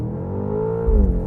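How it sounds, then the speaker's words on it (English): 2024 BMW X5M Competition under launch-control acceleration, a short burst of engine roar heard from inside the cabin with a deep low thump near the end. "We're going to do a third launch if it lets us."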